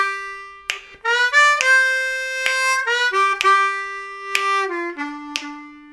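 A blues turnaround lick on a C harmonica, with a 2-draw bend, is played as a run of bright, close, reedy notes with quick slides and sharp attacks, ending on a held low tone.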